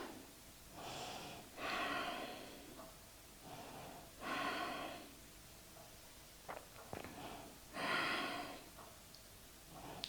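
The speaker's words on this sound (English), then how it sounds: "Take deep breaths here." Slow, deep breaths drawn and released during a Hatha yoga pose, several long airy inhales and exhales in a steady rhythm, close and fairly soft, with a few small clicks between them.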